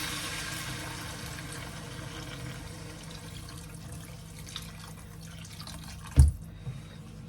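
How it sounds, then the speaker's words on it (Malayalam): Water trickles and splashes steadily into a pan of spicy Kerala fish curry masala, fairly quiet, with a couple of small clinks of a utensil near the end. "ഈ സമയത്ത് നമുക്ക് ആവശ്യത്തിനുള്ള വെള്ളം ആഡ് ചെയ്ത് കൊടുക്കാം."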